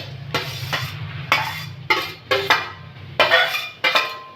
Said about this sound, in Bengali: কড়া বসিয়ে দিয়েছি একটা, নারকেলগুলো সব দিয়ে দেবো